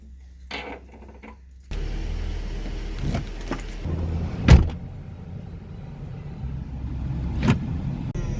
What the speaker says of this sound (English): So I'm letting the car warm up a little bit